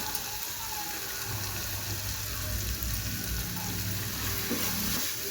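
A pinch of asafoetida frying in hot oil gives a steady, close, dense sizzle with a few soft stirring scrapes, continuous throughout and without talk.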